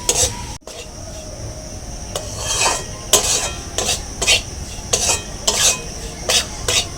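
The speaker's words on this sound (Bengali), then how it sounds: "সুজিটা প্রায় 5 মিনিট ধরে নাড়া হয়ে গেছে, ভাজা ভাজা হয়ে গেছে।" Semolina being stir-fried in a pan over low heat: close, repeated scraping strokes of a spoon or spatula, in an irregular rhythm over a soft background sizzle.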